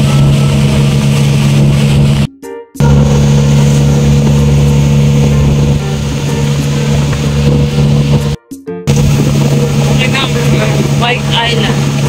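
Boat engine running steadily with a loud low drone and harmonic hum before an island trip, cutting out briefly twice and resuming, with voices faintly audible near the end.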